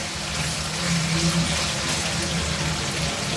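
Chicken pieces fry in soybean oil in a pan, a dense steady sizzle and crackle close up that swells slightly midway, with faint low hum beneath.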